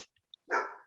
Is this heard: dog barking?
yes